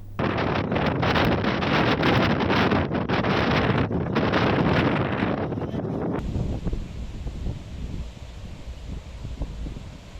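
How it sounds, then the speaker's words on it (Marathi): Heavy rain driven by strong wind lashes the coastal town of Malvan, where rough seas are breaking on the shore. A loud, constant roar of rain and wind-buffeting fills the whole stretch and eases slightly partway through. "सकाळपासून जोरदार वाऱ्यासह पावसाच्या दमदार सरी कोसळत आहेत"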